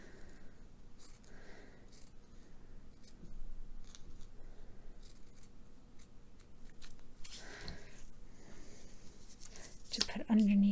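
Scissors snip through a piece of silk ribbon in a quiet crafting setting, a few soft separate cuts spread out over faint background noise.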